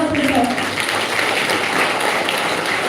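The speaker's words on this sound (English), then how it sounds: "A huge round of applause for Sir." An audience at a school anniversary award ceremony claps for a guest, a continuous wash of applause with a speaking voice underneath at the start.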